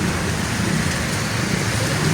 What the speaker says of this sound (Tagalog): Ingat po tayo palagi kasi malakas ang ulan.